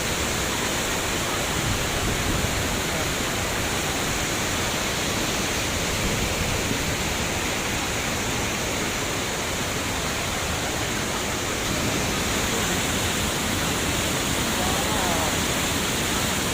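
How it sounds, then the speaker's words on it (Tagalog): Taytay Falls in Laguna roars as a constant, dense wash of falling water, loud and unbroken throughout with no pauses or voices. "Welcome to Taytay Falls."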